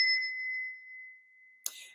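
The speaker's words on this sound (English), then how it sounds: "When you clear negativity, like with this bell" A single clear strike of a small hand bell rings out and decays slowly into silence, followed by a brief soft rustle near the end.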